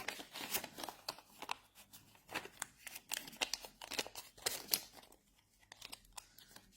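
Paper budget envelopes being flipped and shuffled through by hand, a quick run of close crisp rustles, slides and taps with brief pauses, no talking.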